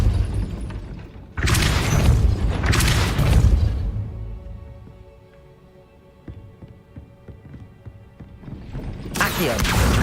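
Depulso spell impacts in Hogwarts Legacy land as two loud, broadband bursts with a deep booming, crashing quality, followed by a quieter stretch of low rumbling game sound and then another burst at the end.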